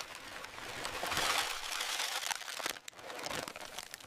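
Crispy potato chips crunching and crinkling in a steady, dense rush of loud, bright crackle that swells near the middle and dips briefly before carrying on.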